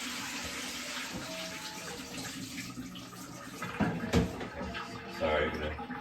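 Ong choy vegetables rinsing under a running tap, a steady moderate wash of water with splashier bursts near the end, while a person talks at times.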